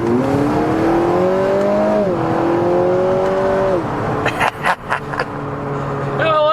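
An Acura ILX A-Spec with about 80K miles pulls hard under acceleration, its engine tone climbing through gears with torque steer, loud and close from inside the cabin, followed by a couple of brief sharp bursts near the end.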